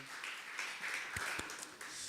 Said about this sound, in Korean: 하나님께 감사와 영광의 박수 힘차게 드리겠습니다